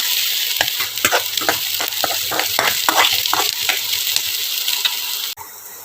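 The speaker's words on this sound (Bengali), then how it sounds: "সমস্ত সবজিগুলো দিয়ে দেওয়ার পর এটা একটু নাড়াচাড়া করলাম ভালো করে একটু ভেজে নেব" Thinly sliced vegetables fry in a pan with a loud, steady sizzle, broken by rhythmic scraping and stirring strokes close by, then cutting off abruptly near the end.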